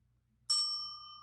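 A single page-turn bell in an audiobook reading of Incredible Ned by Bill Maynard strikes once, clear and bright, then rings on in a long fading tone over a quiet background.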